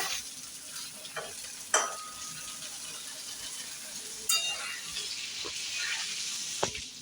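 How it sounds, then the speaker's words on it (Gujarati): Corn tempered in hot oil with mustard and cumin seeds crackles and sizzles under a spoon, with a few sharp scrapes and clinks of metal against the pan amid a steady frying hiss. "હાલો, તો મિત્રો આપણે જો મકાઈ વઘારી છે,"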